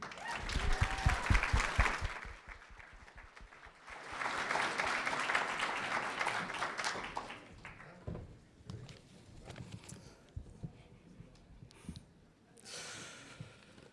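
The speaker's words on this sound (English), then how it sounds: "please give a big, massive round of applause to the Waterloo region of Ontario" Applause from an audience at a Smart Cities Challenge award ceremony, two loud bursts of clapping with a fainter spatter between them and a last short round at the end.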